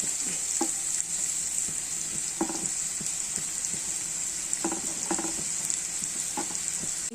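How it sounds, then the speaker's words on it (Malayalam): Grated coconut roasts in a pan for a prawn curry, sizzling steadily while occasional stirring scrapes and taps break through nearby. "ഈ സമയം കൊണ്ട് നമുക്ക് തേങ്ങ വറക്കാം"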